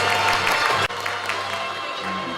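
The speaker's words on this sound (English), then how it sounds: "Let's give her a round of applause." Audience applause at an environment summit in the Philippines, a dense burst of clapping that cuts off sharply partway, followed by a softer lingering patter and room tone.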